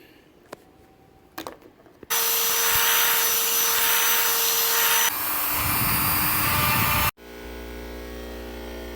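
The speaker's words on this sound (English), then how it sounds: "I'm going to wire brush that and paint it up" A wire wheel grinding rust off the slip yoke of a Jeep XJ runs loud and steady as a harsh whirring buzz for about five seconds, changes pitch partway through, then winds down to a quieter hum.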